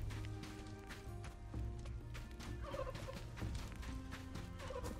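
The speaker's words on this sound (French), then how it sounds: "Le dindon qui squatte." A turkey in the survival video game Soulmask gobbles in quick rattling bursts, repeated a couple of times over game ambience and soft background music.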